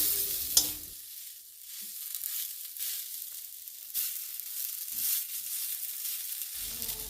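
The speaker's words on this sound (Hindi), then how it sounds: "वर्तमान गैस रे फुलकोबी आलू भजा बसची।" Cauliflower and potatoes fry in a pan on a gas stove, giving a steady broadband sizzle with occasional stirring scrapes and a sharp clink near the start, all without any voice.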